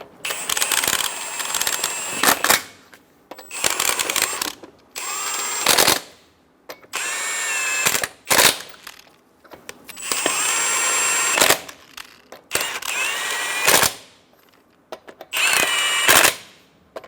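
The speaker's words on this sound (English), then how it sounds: "Snug the lug nuts down." Power tool snugging lug nuts on a 2014-2018 Chevrolet Silverado 1500 wheel, in about eight close, loud bursts of whirring and rattling, each a second or two long with short pauses between.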